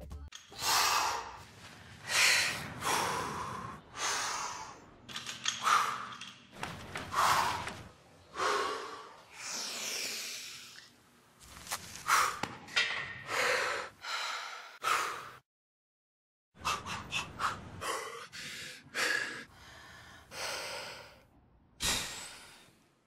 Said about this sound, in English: I really liked the swimmer guy when he did his breathing